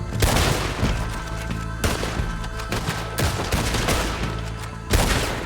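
Gunfights in Red Dead Redemption 2, with repeated loud, booming gunshots close by, separate shots and short volleys arriving every second or so over a rumbling battle background, without speech.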